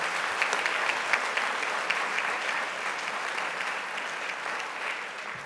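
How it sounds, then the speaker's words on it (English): Steady audience applause for students at a school board meeting, a dense, even wash of many hands clapping in a large room, moderately loud and unbroken. "let's give a round of applause to all these students"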